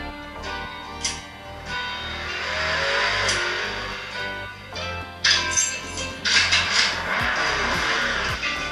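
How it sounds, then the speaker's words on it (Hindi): Arcade racing game engine sounds from Beach Buggy Racing or Asphalt, played on a cheap wireless gamepad: a revving car engine rises and falls, with bursts of acceleration and game effects toward the end, moderately quiet. "सबसे पहले हम लोग खेलेंगे रेसिंग गेम्स, जैसे कि बीच बग्गी रेसिंग हो गई या फिर एसफाल्ट हो गई।"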